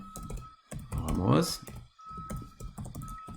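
Quick bursts of keystrokes on a computer keyboard as an email address is entered into a WordPress page, clicking in short runs between pauses while a person talks over them nearby.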